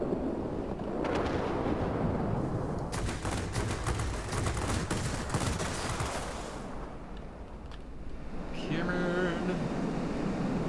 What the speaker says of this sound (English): if you just need to get the big 37mm cannon to hit